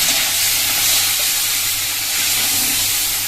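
Potatoes fry in fish oil with a loud, close, continuous hissing sizzle that stays steady throughout.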